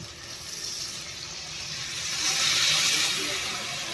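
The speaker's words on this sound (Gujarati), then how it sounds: "પાણી થોડુંક નાખવું તો નાખી દે" Water poured into a pan of whole stuffed brinjal curry, a steady hissing splash that swells toward the end, with faint background noise throughout.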